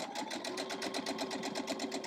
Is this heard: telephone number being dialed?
no